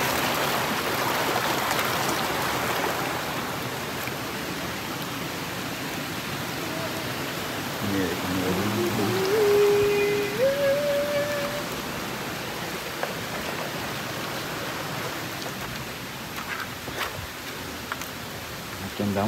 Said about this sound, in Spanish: Andamos bajo el agua, sin paraguas, mire que no trajimos ni paraguas a usted.